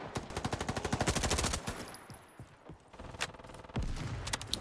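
MP5 submachine gun firing in the Roblox video game, rapid automatic bursts with short pauses between them, loud and close with some other game effects mixed in.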